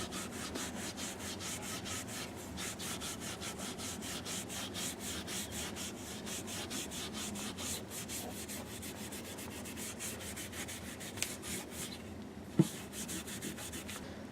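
Steel wool rubs briskly over a grimy leather golf grip in fast, even back-and-forth strokes that rasp continuously and close up, with a sharp tap near the end.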